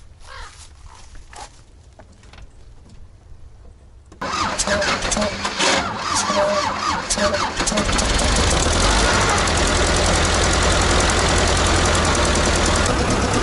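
An old T-16 tractor engine cranks and catches after a quiet start, then settles into a loud, rough idle that grows steadier and louder; a few voices appear faintly.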